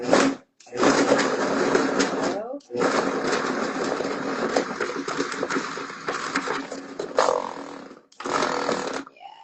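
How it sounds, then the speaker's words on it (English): A blender whirs loudly in several bursts blending sweet potato for a latte, stopping briefly between runs, with a person talking over the motor. "then we're just gonna blend it all together"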